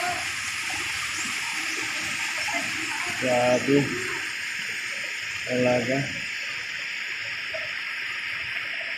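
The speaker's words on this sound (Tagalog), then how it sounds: "sa Barangay Tumiyaw malakas ng tubig" Steady loud rushing of floodwater fills the whole clip, with two brief bursts of a voice speaking in Filipino over the constant roar, in Barangay Tumiyaw.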